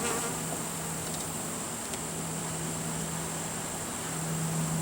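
Honeybees buzzing around recovered brood frames from a family room ceiling, a steady, dense hum of many insects held at an even level throughout, close and without voices.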